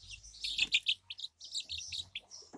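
Ten-day-old chicks chirp close up, with a cluster of shrill, quick peeps followed by more scattered high tweets.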